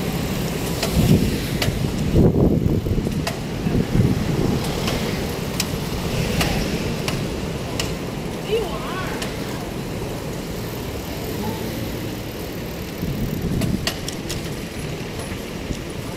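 Continuous highway traffic hums at a steady level, with low engine rumble and tire roar from passing vehicles and a few brief clicks and knocks over the top.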